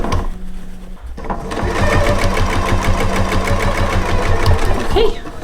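A sewing machine stitches a fabric gift bag near the presser foot, its rapid, steady mechanical chatter running loud and continuous for several seconds after a brief quiet start.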